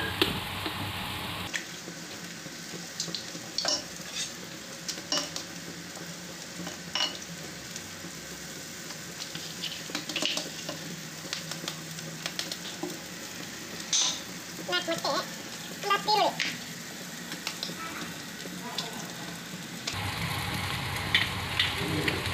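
Eggs cracked into a pan of spiced masala for egg palya sizzle and fry while a spoon stirs and scrapes, with scattered clicks and taps over a steady close frying hiss.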